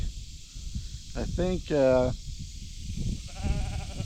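Several sheep bleat in short wavering calls, one loud and close, others softer, over a background of rustling and outdoor noise.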